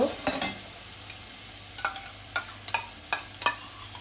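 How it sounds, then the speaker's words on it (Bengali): Bhola fish curry masala being stirred and fried with water in a pan, a soft sizzle under a run of sharp spatula scrapes and taps, about eight strokes spaced irregularly, close and moderately quiet. "জল দিয়ে আমি আবারও মিনিট 2-3 ভালো করে কষিয়ে নেব।"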